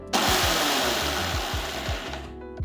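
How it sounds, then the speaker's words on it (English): A mixer grinder jar of dried rice runs in short pulses, a loud whirring motor with repeated rhythmic thumps of the grains, then stops abruptly near the end. "to the mixer jar, add the dried rice. Use the pulse mode just about 2 to 3 times to grind it into a nice coarse"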